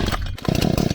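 A chainsaw running close and loud, its engine droning briefly lower before surging back up in a rough, buzzing roar.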